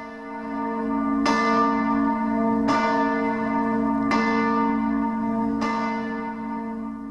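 Church bells toll slowly in a steady rhythm, four resonant strikes spaced evenly, each ringing out with a long, humming decay that overlaps the next.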